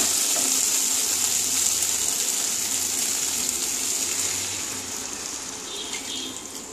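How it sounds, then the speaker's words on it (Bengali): Water poured into a pan of potato and pointed gourd curry: a loud, continuous gushing splash that eases off slightly toward the end. "আমি এবার জল দিয়ে দেবো"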